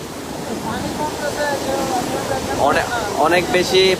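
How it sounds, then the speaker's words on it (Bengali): Muhuri River water rushes loudly and steadily through 40 sluice gates after heavy rain, with voices talking over the roar in the second half. "অনবরত 40 গেটে পানি বাইর হচ্ছে।"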